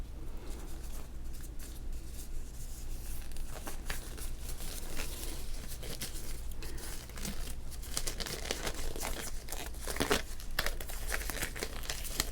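Synthetic vinyl gloves crinkle and rustle as they are pulled on for cutting up a 1990 Topps baseball card, a soft close-up stream of crackly plastic sounds with no talking.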